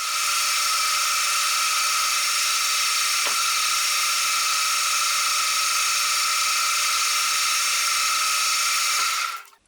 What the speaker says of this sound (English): Fly cutter, good finish.